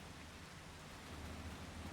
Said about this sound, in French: il pleut, mais c'est pas grave